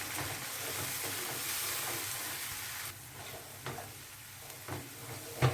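A paste of coriander leaves, capsicum, green tomato, green chili, ginger and garlic is stirred into a hot pan, giving a steady sizzle and hiss broken by occasional soft scrapes, with no talking.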